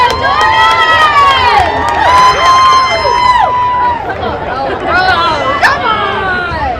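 A crowd cheers and yells at a high school football game against Cushing, loud and continuous, with whistling shouts and excited voices rising over a busy stadium hubbub.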